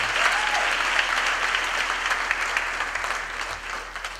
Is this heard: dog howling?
no